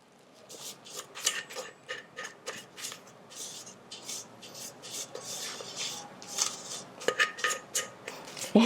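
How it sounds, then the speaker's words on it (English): A spatula scrapes the last bits of Nutella marble cake batter from a bowl in repeated close, rhythmic strokes, each a short rasping scrape against the bowl, with no talking. "I'm scraping off all the last bit"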